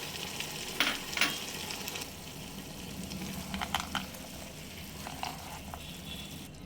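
Pumpkin greens are stir-fried with pre-fried urad dal lentil dumplings (bori) for a vegetarian chorchori, making a soft, fairly quiet sizzle. Several brief bursts of stirring and scraping rise above it, and no voices are heard.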